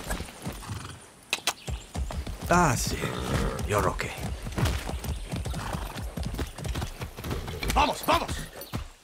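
A horse in the Far Cry 6 game clip-clops along with hooves thudding in a steady trot and lets out a whinny, close and prominent, while someone speaks to it in short phrases.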